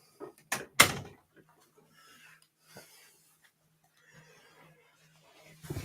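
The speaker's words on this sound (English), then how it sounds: "Okay, I had to fix the door." A door being repaired gives a few sharp knocks and clunks close by in the first second, followed by quieter scattered rubbing and small handling noises, with one more burst of clatter at the very end.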